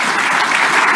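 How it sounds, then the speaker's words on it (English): An audience claps loudly and steadily during a live LGBTQ+ news broadcast, a dense, even burst of many hands close by with no one speaking over it. "y'all can clap"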